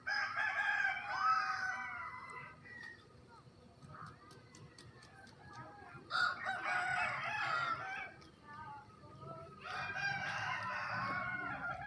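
A rooster crows several times and chickens cluck, the crows rising in bursts near the start, middle and end over a steady rural background, with voices talking faintly among the birds.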